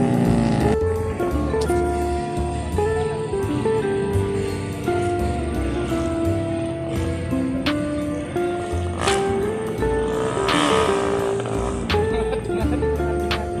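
An open-valve 130cc drag race motorcycle engine holds a loud, high-pitched whine at steady revs, rising and dipping in pitch a few times and blipping sharply near the end, heard close by throughout.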